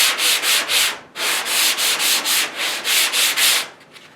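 A sanding block is worked by hand over a Mustang fender during bodywork. It makes a close, even rhythm of about a dozen quick rasping strokes, with a brief pause near the start, and no voices.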